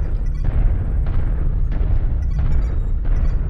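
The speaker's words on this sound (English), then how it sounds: "Somebody put an airstrike." Airstrike explosions in a mech combat video game roll in as heavy, loud low-end booms, several distinct blasts spaced about every half second to second over a constant rumble.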